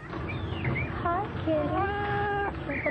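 A house cat gives several rising and falling meows in quick succession, fairly close and clear, with an indoor murmur beneath.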